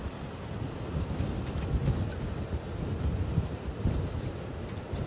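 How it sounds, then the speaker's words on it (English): Strong storm wind buffets the microphone at a seawall on Davis Island in Tampa, a continuous roaring rumble with gusty surges and no voices. "It's very windy out right now."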